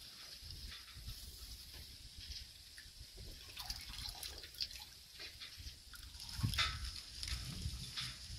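Water drips and splashes as freshly dyed cloth tie-dye masks are wrung out over a wooden bowl, naturally dyed with traditional plant dyes; scattered close, faint wet patters and trickles with a stronger splash near the end.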